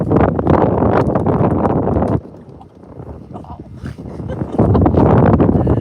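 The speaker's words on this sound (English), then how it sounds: "I swear it was not this windy when we made the decision to go live out here." Strong wind outdoors buffeting the microphone in loud roaring gusts, easing for a couple of seconds before blowing hard again.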